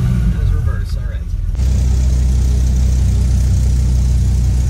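A powerful 8-liter Dodge Viper engine runs with a deep, steady low rumble that swells louder partway through, continuous and close, on wet pavement.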